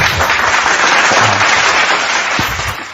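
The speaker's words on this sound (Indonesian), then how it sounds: "Tepuk tangan buat Tuhan." Loud, close, sustained applause from an audience at an Indonesian-language religious debate, many hands clapping in a thick unbroken roar that tapers off at the very end.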